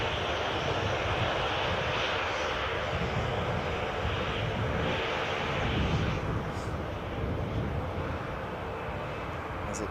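A passenger jet airliner rumbles at Newcastle airport, a steady broad engine roar with slight swells in volume, heard from a distance with light wind noise and no talk.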